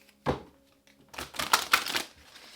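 A tarot deck gets a final shuffle: one sharp tap, then a dense flurry of riffling card flicks lasting about a second, close and clear in a quiet room.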